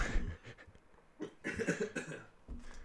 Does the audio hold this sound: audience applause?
no